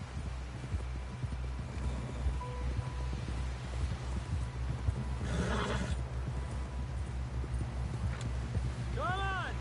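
In a video game, a horse gallops with quick rhythmic hoofbeats and neighs near the end, under someone speaking over the steady clip-clop and a windy outdoor background.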